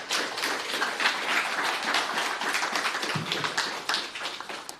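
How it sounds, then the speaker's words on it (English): A conference audience gives a round of applause at a startup talk, dense steady clapping from many hands filling the room for several seconds with no voices over it. "Let's have a round of applause"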